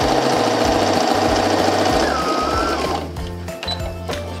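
A sewing machine top stitches a skirt hem, running close and loud with a fast, steady mechanical chatter for about three seconds before slowing slightly at the end.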